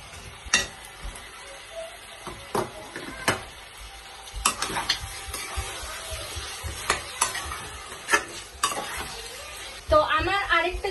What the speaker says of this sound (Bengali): আর মাংস এদিকে কষছি